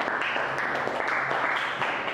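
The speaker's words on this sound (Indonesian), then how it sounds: "Oke, tepuk tangan dulu buat semuanya ya." Classroom applause breaks out during a Catholic religious education lesson, with dense, even clapping from many students that fills the whole short moment at a steady level and has no talking over it.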